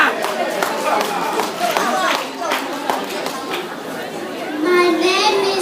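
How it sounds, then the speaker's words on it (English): Children clapping together at a church gathering, rapid irregular claps mixed with young voices and crowd chatter, fairly close and lively throughout. "Children, clap!"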